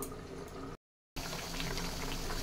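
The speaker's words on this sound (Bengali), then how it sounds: "এবার 5 মিনিট মতন আমি ফুটতে দেবো ঢাকা দিয়ে" A vegetable curry made without paneer simmers in a covered pot, giving a close, steady bubbling hiss with a brief silent gap in the middle.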